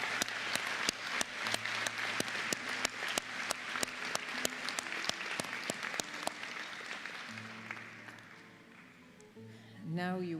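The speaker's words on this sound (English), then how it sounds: "Let's give a round of applause for all the award winners in different categories." Graduation audience applauds award winners at a college ceremony, a steady wash of clapping with sharp close claps punctuating it, easing off toward the end as a voice speaks over a microphone.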